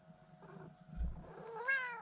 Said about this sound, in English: my cat's getting in the mix here